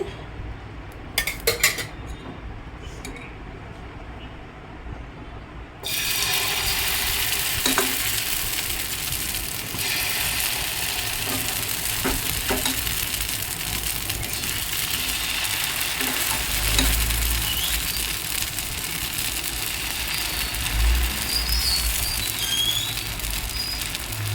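Oil sizzling and spitting in a pan as a pancake fries, a quiet start giving way at about six seconds to a loud, steady hiss that continues to the end, with occasional clinks of a utensil against the pan.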